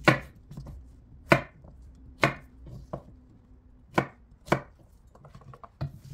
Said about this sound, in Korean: 호박부터 썰어볼까요?